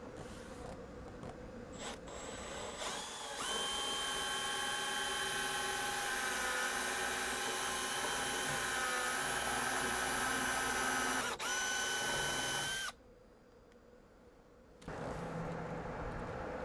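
A Milwaukee installation drill/driver drives screws, including pocket hole screws, into wood: a steady high motor whine runs for several seconds, cuts out briefly, then resumes, close and loud.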